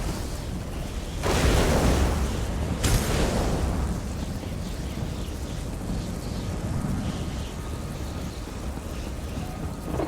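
A deep rumbling boom of thunder from a lightning storm in the video game Elder Scrolls Online, one strong crack early on, then a long low rolling rumble fading under steady background noise.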